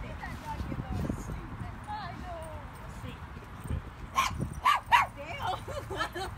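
Schnauzer dogs at a dog park give a few short barks and yips toward the end, moderately close, amid faint chatter and outdoor background noise.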